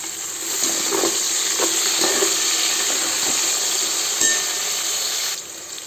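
Green chillies and onions frying in a pan, a steady close sizzle with soft scraping stir sounds throughout, fading slightly at the very end; no one speaks.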